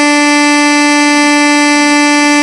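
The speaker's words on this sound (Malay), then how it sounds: "Selamba dia horn panjang" A car horn on a road in India blares in one long, loud, unbroken honk that holds steady from start to finish.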